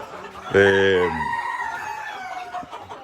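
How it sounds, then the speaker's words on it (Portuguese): Silver Campine chickens in a poultry yard, with one loud, close, drawn-out crow or call followed by softer clucking and fainter bird calls. "tem um terno aqui de Campine prata, tem um galinho de Campine"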